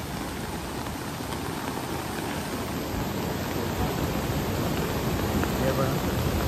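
A swollen river in flood at Karjat after a sudden heavy downpour, its water spilling over the Anjap Pej river bridge, makes a steady, dense broadband rush that carries on unchanged throughout.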